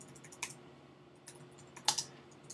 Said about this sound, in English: We might want to type that in